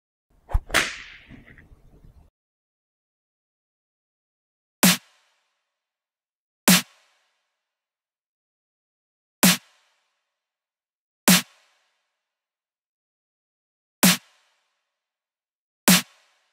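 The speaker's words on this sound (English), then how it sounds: "this snare sample" A punchy snare drum hits once with a short noisy tail, then strikes six more times alone, each a crisp dry crack separated by silence.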